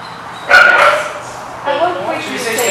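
A dog in leave it / take it obedience training gives two loud, close barks or yips, the first sharper and the second softer and whinier, with quiet pauses around them.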